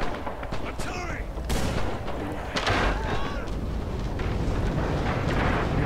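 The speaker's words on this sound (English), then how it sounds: "Got the artillery on the guys, they're dropping Artie" Artillery fire in Red Orchestra 2, heavy booming blasts and scattered gunshots over a loud, rumbling battlefield, with a voice talking now and then.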